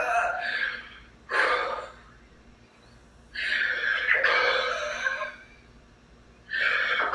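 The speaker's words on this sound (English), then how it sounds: "It doesn't have to be loud. You're just breathing." Forceful, deep exhales in a yoga breathing exercise for the abs, three long loud bursts separated by short quiet pauses, close to the listener with no talking.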